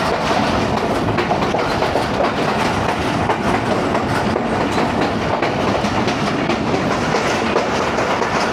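A passenger train on the Lahore to Narowal line rolls steadily along the rails, with a loud, continuous rumble and rhythmic wheel clatter heard from inside the carriage and no voices.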